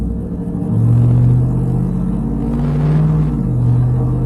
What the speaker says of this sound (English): I'm about to start accelerating again